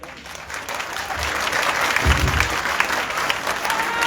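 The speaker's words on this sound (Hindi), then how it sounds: "यहां तो तालियां भी बज रही हैं" Audience applause at a martyrs' prayer gathering for Army Public School, a dense wash of clapping that swells and holds steadily, loud and close.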